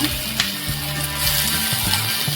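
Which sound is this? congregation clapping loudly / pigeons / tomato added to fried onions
tomato added to fried onions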